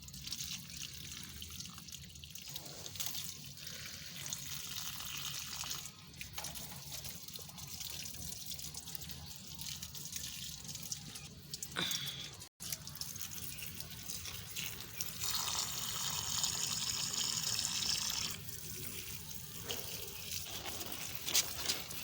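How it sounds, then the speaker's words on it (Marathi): Garden plants being watered, a steady trickle and splash of water pouring onto leaves and soil, growing a little heavier toward the end, quiet and close with no talk. "आता थोडंसं झाडांना घालायचं राहिले पाणी"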